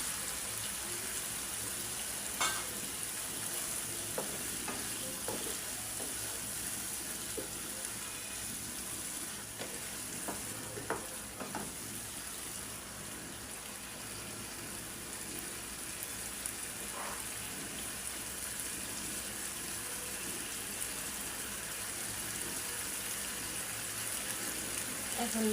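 Tomato fries in a spiced masala for chicken roast, giving a continuous hissing sizzle with scattered pops that stays fairly even and close throughout, with no talking.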